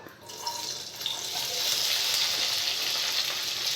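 Chopped okra drops into hot oil and the frying rises into a loud, steady, close-up sizzle that holds without letup, with a few faint clinks early on.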